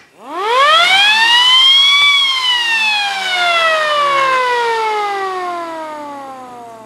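A DC motor siren, its slowing limited by a discharging capacitor, winds up loudly to a rising wail, then slowly winds down in a long falling tone, heard alone at close range.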